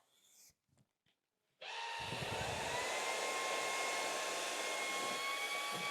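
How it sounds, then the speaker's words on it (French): Jigoo V700 cordless vacuum cleaner switches on after a few quiet knocks and runs with a loud, steady motor whine and airy hiss while sucking up spread-out dust, holding constant to the end. "Je vais essayer de l'étaler justement pour qu'il ait plus de simplicité à l'aspirer quand même."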